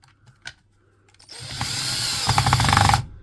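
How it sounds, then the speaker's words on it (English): A wood screw is driven into the plastic tab of a Makita battery with a screwdriver. After a few light clicks, a close, loud power-tool whir holds steady for about a second and a half, then cuts off. "You just get a wood screw, you get a screwdriver"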